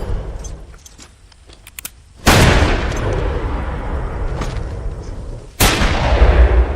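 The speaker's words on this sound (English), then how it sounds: "In the aftermath of the gunfire" Two loud gunshots crack out about three seconds apart in a Western outlaw shootout, each followed by a dense, sustained roar that suggests reverberant or continuing fire.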